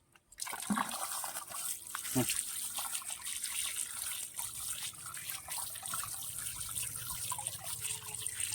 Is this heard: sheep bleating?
no